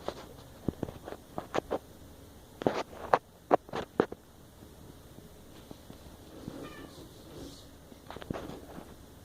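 Two house cats, Grim and Miso, meow several times in short, bright calls, some close together, in a quiet living room with faint movement and no talking.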